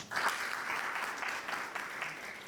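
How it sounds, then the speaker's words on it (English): A youth forum audience breaks into applause, a dense, even wash of many hands clapping for a few seconds at moderate loudness, heard from within the hall with no talking over it. "Another round of applause."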